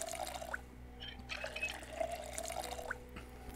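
A kettle being filled with water in the Project Zomboid game, heard as a faint steady trickle with small dripping plinks at low level and no voices.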